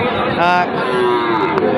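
Cattle low loudly and close by at a busy border-area cattle market where bulls are sold, with a drawn-out moo over a murmur of crowd noise.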